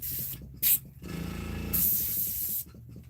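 Airbrush hissing paint onto a handmade wooden bass bait in short bursts, with a loud blast near the start and a longer spray through the middle, with quiet pauses between.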